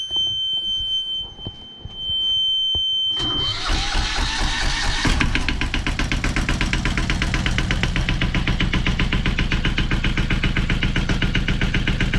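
A diesel engine cranks and catches after a few seconds, then settles into a loud, steady, clattering idle that runs on continuously; an engine mount nut is nearly coming loose.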